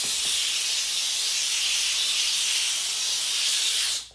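Wagner Spraytech 915e on-demand steam cleaner blasting a grease-crusted surface, giving a loud, steady, close hiss that runs without a break and cuts off abruptly at the end.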